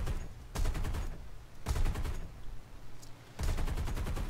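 Aircraft cannons in the War Thunder video game fire at ground targets in three loud, sustained rapid bursts, each a dense run of quick shots, separated by brief pauses with engine rumble between them.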